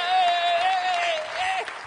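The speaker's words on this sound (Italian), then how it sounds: "applausoni!" A studio audience on an Italian political talk show breaks into sustained applause, a dense, steady wash of clapping that carries on for about two seconds, with a thin sustained tone running through it.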